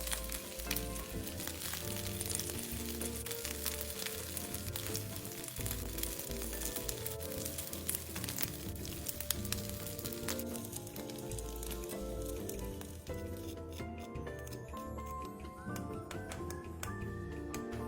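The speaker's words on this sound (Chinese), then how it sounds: "煎至两面微微焦香" Glutinous rice rolls pan-fry in hot oil and give off a steady, close, even sizzle with soft crackles throughout, with no voices.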